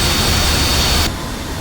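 An F-86 Sabre jet engine in the DCS World flight simulator, heard on a test flight approach, gives a loud, steady, close roar that drops abruptly to a somewhat quieter whoosh near the end.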